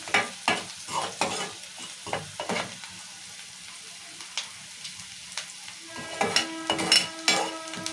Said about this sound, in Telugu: పసుపు వేసినా కదా ఒకసారి కలుపుదాము.